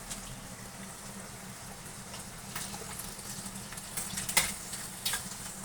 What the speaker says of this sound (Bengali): তেলের মধ্যে চিংড়ি মাছগুলো দিয়ে দেবো।